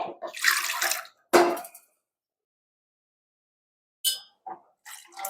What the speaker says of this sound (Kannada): ತಟ್ಟೆಯಲ್ಲಿ ನೀರಿರೋದೆಲ್ಲ ಎಷ್ಟು ನೀರು ಬೇಕು ಅನ್ನೋದಕ್ಕೆ ಹಾಕ್ತಾ ಇದ್ದೀನಿ